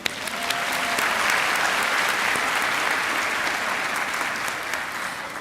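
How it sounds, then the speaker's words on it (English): Sustained applause from a crowd at a high school graduation, steady and loud throughout, a dense wash of clapping with no pauses. "I think we should give them a round of applause."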